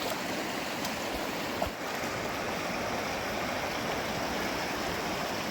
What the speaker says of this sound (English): The stream is beautiful